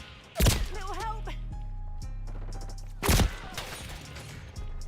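Gunfire in a multiplayer shooter game, two loud bursts of shots about three seconds apart over a droning game soundtrack, with a brief chirping effect between.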